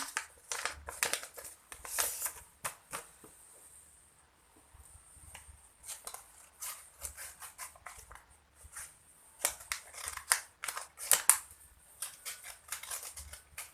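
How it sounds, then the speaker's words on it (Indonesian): Scissors cutting through material side to side, giving a long series of crisp, close snips and clicks in irregular bursts with short pauses between. "Nah, setelah itu kita gunting."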